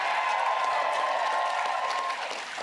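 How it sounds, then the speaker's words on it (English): Audience applause at an election night rally for the Nanaimo byelection, a steady moderate clapping wash that fades slightly at the end, with a faint tonal hum running through it. "You want to clap? Have a clap."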